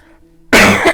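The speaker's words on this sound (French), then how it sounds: "je tousse" A single loud, harsh cough bursts out abruptly halfway through, preceded by a faint low hum; it comes from a woman recovering from the flu, close and unaccompanied by speech.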